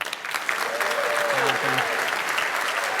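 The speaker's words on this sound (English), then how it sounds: "Give him a round of applause." Audience applause at a startup pitch competition, steady clapping from a crowd that continues throughout while a voice briefly speaks over it.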